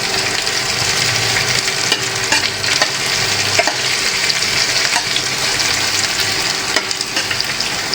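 Chopped garlic and plenty of chopped onion fry in a pan, making a loud, constant sizzle with scraping stirring strokes throughout and no one speaking.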